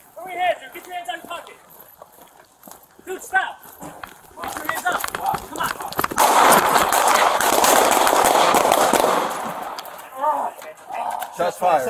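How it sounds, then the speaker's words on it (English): Police officers fire guns during a Chicago street shootout with an armed man; the shots blur into a dense, loud stretch of sharp cracks mixed with heavy shouting and talk. "Shots fired by the police."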